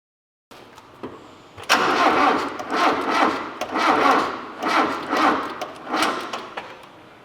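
A car engine cranks over on its starter without firing, close and loud, in a steady rhythmic pulse of about six or seven rotations after a brief click, the starter whirring and the engine turning but not catching.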